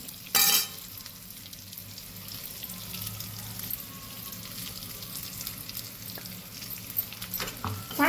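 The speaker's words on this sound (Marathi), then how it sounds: "आता आपण हा राहिलेला मसाला त्यात टाकून घेऊया." Stuffed brinjals fry in a pan with the remaining masala as a steady close sizzle runs throughout, with a sharp clatter near the start and a few faint knocks, and no talking.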